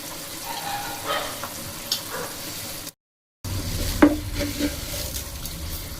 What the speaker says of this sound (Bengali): এবার এটাকে আমি 2-3 মিনিট লাগবে হালকা মিডিয়াম ফ্লেমে কষিয়ে নিতে হবে।